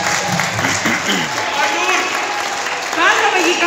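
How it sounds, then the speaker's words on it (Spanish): Staff at a hotel employee luncheon clap for the employee of the month, a lively burst of applause mixed with cheers and overlapping voices throughout. "Les pido un fuerte aplauso."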